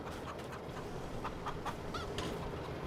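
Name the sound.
chickens clucking in video game Farming Simulator 22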